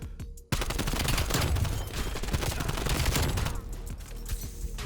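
Sustained, dense machine gun fire from Call of Duty: Cold War in a rapid rolling burst of heavy rounds, loud and close, easing slightly near the end.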